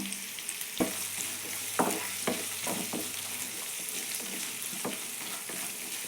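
Onion, ginger and garlic fry in a pan with a steady sizzle, broken by the scrape and knock of a spoon stirring now and then, close and moderately loud.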